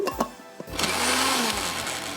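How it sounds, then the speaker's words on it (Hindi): A kitchen blender holding leftover masala and stock whirs up after a few clicks and knocks, then runs steadily and loudly for a couple of seconds with a rising whine. "यहाँ पर ब्लेंडर में थोड़ा सा मसाला लगा तो इसी को मैं ज़रा सा चला लूँगी"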